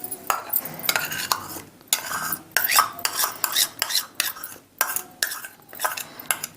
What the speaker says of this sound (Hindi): इसको अच्छी तरह से मिक्स कर लेंगे।